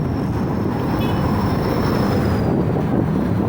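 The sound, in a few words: strong wind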